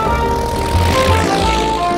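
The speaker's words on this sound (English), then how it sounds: "He can even fly off in my plane." Cartoon propeller plane flying off, a steady droning buzz with a brief low swell, heard over background music.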